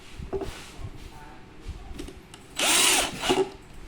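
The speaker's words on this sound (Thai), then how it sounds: "นะคะแล้วก็ยิงด้านข้าง นะคะยิงแบบนี้นะคะให้ครบทั้งสี่มุม" A power drill drives screws into the side corners of a flat-pack bedside cabinet, with one loud, whining burst in the middle and shorter buzzes before and after, while someone talks nearby.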